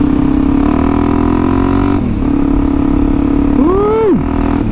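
A Suzuki DRZ400E motorcycle rides along a beach, its engine holding a steady loud drone with a brief dip and a rising rev near the end, heard close and alone without talk.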